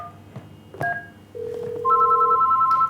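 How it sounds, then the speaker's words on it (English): A contact-center call router rings a phone line: clear electronic tones, first a single steady tone, then a sustained dual-pitched ring after a few short blips, fairly loud with no voices. "now just your phone is ringing because he wants to speak to somebody who is able to speak English"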